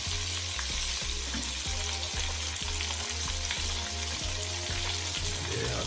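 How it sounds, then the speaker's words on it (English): Curry chicken feet frying in a pot, a steady sizzle with regular scraping strokes of stirring, close and continuous. "Just gonna stir them around for about 2 minutes into your pot."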